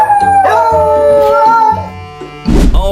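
A Beagle howls in long, wavering tones close to the mic, the cry rising and sliding for about two seconds before a shorter, rougher bark-like yelp near the end.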